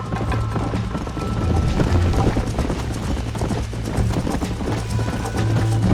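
Hooves gallop fast and rhythmically in the Red Dead Redemption video game, loud and continuous. Creaking tack and mechanical rattling run underneath the hoofbeats.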